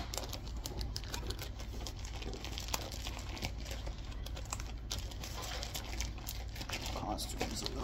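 A costume is pulled out of its plastic packaging, with steady crinkling and rustling close by under a constant background hum while someone talks.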